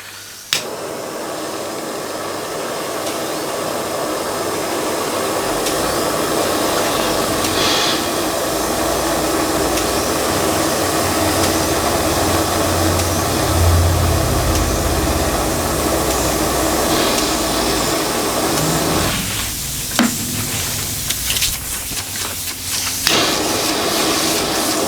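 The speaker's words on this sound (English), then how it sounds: "let's give it a little bit of extra heat using the the gas torch." A gas torch heats a large model Hero's aeolipile steam engine, giving a loud, steady roaring hiss that runs throughout, with a few clattering knocks near the end.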